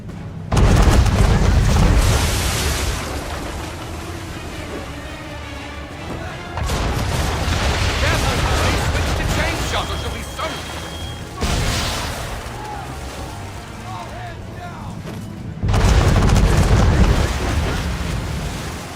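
Naval cannon fire on a ship in Assassin's Creed III, heavy booming blasts in several bursts separated by pauses, each followed by rumbling decay, with voices speaking in between.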